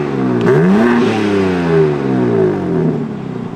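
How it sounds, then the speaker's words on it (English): A BMW with its stock exhaust revs up and drops back, the engine note climbing and falling in a few smooth sweeps, close and fairly loud with a steady idle underneath. "we're gonna get some stock revs to see how quiet this thing is right now"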